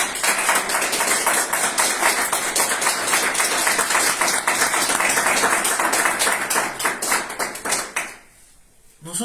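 A church congregation breaks into loud, sustained applause, dense rapid clapping filling the room for about eight seconds before dropping off sharply near the end.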